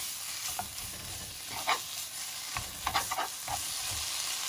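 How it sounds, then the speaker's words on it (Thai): Pork is stir-fried with curry paste in a pan, a steady close sizzle broken by repeated scraping and stirring strokes of a utensil against the pan, with no talking. "เอากลับมาผัดใส่เครื่องให้มันหอมก่อนค่ะทุกคน"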